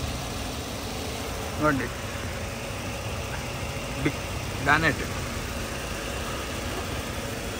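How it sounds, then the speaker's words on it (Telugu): A 2020 Maruti Suzuki Ertiga ZXi with push-button start idles smoothly, a steady low hum held throughout with brief voices speaking over it. "బండి ఆన్లోనే ఉంది వెహికల్."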